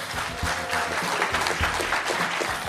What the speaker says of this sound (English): I do want to hear a big warm round of applause for our two spectacular sponsors